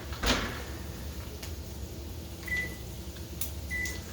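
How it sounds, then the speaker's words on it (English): Someone checks whether a home oven is preheated: an oven door clunks, followed by quiet kitchen room tone and two short faint electronic beeps. "I'm going to check and see if my oven's preheated"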